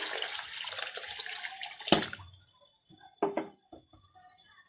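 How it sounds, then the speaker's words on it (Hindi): Water poured into a pot of potato egg curry, a close splashing pour that stops abruptly partway through, followed by a couple of short clinks and drips in near silence. "मैं पानी शामिल कर देती हूँ।"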